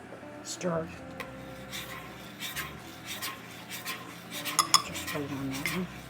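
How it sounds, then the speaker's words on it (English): A spoon scrapes and clinks against a metal pot while stirring rhubarb relish, steady strokes, quiet and close, with a few sharper taps. "So you pour it in slowly and you keep stirring."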